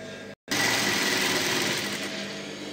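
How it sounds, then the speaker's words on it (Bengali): Sewing machine stitching a folded kurti placket, running in a continuous close buzzing whir after a brief silent break near the start, steady and loud throughout. "এক ফোল্ড করে আমি লগে লগে একদম ফিনিশিং সহকারে সেলাইটা দিয়ে নিলাম"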